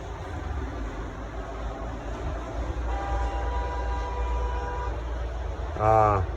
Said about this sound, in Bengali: এই প্রথম হচ্ছে কেউ হর্ন দিল